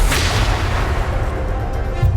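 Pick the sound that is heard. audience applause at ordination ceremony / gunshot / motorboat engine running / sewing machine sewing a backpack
gunshot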